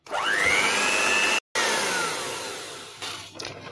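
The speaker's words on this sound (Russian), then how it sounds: "Добавляем сюда и уже взбиваем на большой скорости." An electric mixer whips egg whites at high speed for a diet yogurt dessert. The motor whine ramps up quickly and then holds a loud, steady drone, with a brief cut partway through, and no one speaks.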